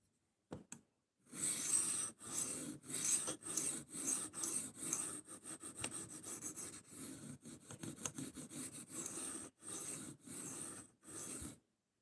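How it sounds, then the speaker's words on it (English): A knife blade is drawn across a sharpening stone in repeated rasping strokes, close and distinct, a steady rhythm of scrapes with brief gaps between passes. "I figured since I'm already sharpening something, I might as well live stream it."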